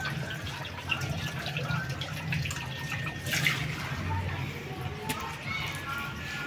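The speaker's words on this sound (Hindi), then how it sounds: "अभी मैं पानी इसमें से भर लेता हूँ।" Water from a temple tank in Katra pours into a container being filled, a steady close splash and gurgle that carries on throughout, with a voice speaking over part of it.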